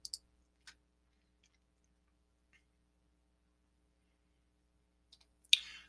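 A computer mouse clicks a few times with long quiet gaps between, sharp and close: two quick clicks at the start, one soon after, then a small cluster near the end.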